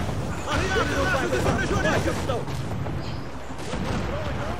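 Ship cannon fire during a naval battle in Assassin's Creed 4 Black Flag: booming shots in a loud battle din, with crew voices shouting over it.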